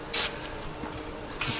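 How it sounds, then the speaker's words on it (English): Two short bursts of aerosol spray hiss close by onto a 2016 Yamaha MT-10 motorcycle, one near the start and one near the end, with a quiet pause between them. "And I'm just going to spray this lightly."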